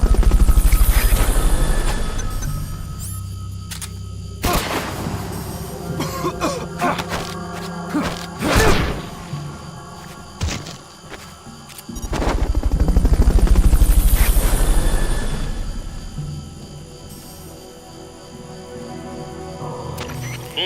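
Helicopter in the Metal Gear Solid: Peace Walker video game, loud rotor whooshes swelling and fading in waves, mixed with game effects and music.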